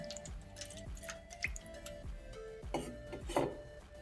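Water is poured over small deity idols during a ritual bath, heard as scattered drips, splashes and soft trickles with a few louder splashes, close and fairly quiet.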